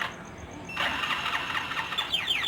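A motorcycle starter cranks repeatedly without the engine catching, a close, fast whirring grind following an alarm-style beeping tone, after installation of a two-way alarm system with a relay kill switch.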